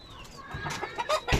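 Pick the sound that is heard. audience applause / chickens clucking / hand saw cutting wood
chickens clucking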